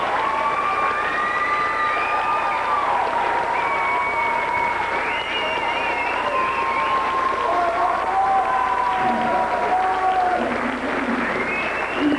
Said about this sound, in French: On les applaudit chaleureusement!